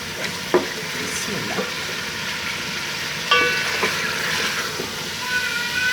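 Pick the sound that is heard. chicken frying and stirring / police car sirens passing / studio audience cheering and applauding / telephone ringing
chicken frying and stirring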